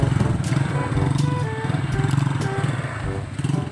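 A small motorcycle engine runs steadily on a muddy provincial road in Quezon, a close, loud putter with slight rhythmic chugging and occasional clatter throughout.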